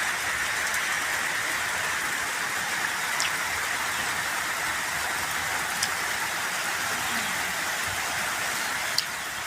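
Steady rain falls continuously for the whole stretch, a dense even hiss with a few louder drips and spatters standing out, heard alone with no talking.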